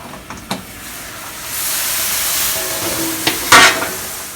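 A wok of boiling water steams an egg mixture for homemade salted egg tofu, giving a steady broad hiss that swells midway, with a few sharp clicks and a louder burst near the end.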